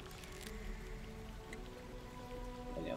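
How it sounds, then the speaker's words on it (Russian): Rushing waterfall in the video game Baldur's Gate III, a steady hissing wash of falling water that runs evenly throughout, with a faint tonal background hum beneath it. "Так, водопад."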